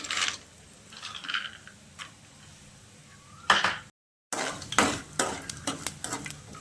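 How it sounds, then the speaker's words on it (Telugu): Peanuts roast in oil with cumin and mustard seeds in a pan, a faint sizzle overlaid by repeated clinks and scrapes of a spoon against the metal, briefly cut to silence before the clatter resumes louder. "పల్లీలు మంచిగా పచ్చి వాసన పోయేంత వరకు వేయించుకోవాలి."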